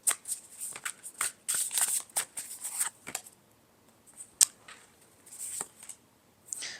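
A tarot deck is shuffled by hand in repeated bursts of crisp card riffling and flicking, close and fairly quiet, with short pauses between rounds and no talking.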